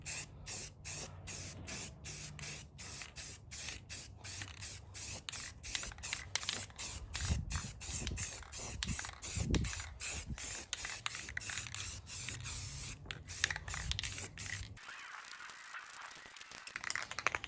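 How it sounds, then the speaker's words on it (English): An aerosol can sprays a primer coat onto a car wheel in rapid, close bursts. The hisses come in many short pulses with brief gaps, then one longer spray, and the clip ends in near quiet. "I'm going to put on a coat of primer."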